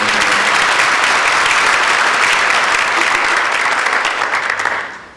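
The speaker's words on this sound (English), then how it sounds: "if we can give them a round of applause" Sustained applause from a town hall audience honoring volunteers, dense and loud, holding steady before fading out at the end.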